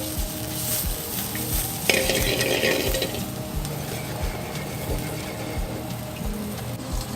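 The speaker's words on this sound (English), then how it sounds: "Now I'm going to add the cream leeks to the pan and let them simmer in that for another 30 seconds" Creamed leeks simmer and sizzle in a hot pan alongside seared scallops, a continuous close frying hiss with soft bubbling and occasional light scrapes of a utensil.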